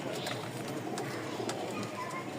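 A pair of Rajgolla pigeons, a light green female and male, coo softly against a steady hiss of background noise, with faint occasional soft thumps.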